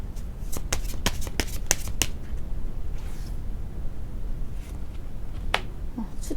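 Tarot cards being shuffled and drawn give a run of sharp riffling snaps and flicks in quick succession, then softer sliding and handling sounds close to the microphone.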